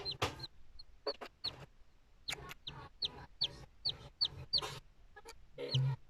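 A newly hatched chick peeps in a quiet series of short, high chirps, faint and close, repeating irregularly with small rustles between them.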